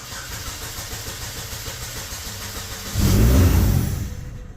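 A 2012 Chevy Malibu engine cranks steadily for about three seconds, then briefly catches with a louder, rough surge that fades out without settling into a run.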